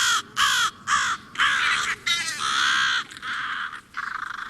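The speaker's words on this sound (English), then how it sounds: "adult crows dive bomb people, cats, and other birds or animals" Adult crows give harsh caws in a rapid series of about a dozen loud calls, some overlapping, clearly heard with no talking.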